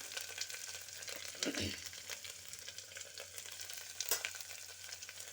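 Small potatoes fry in a pan with turmeric, giving a soft continuous sizzle with occasional scraping stir strokes, close but fairly quiet, and no one speaks over it.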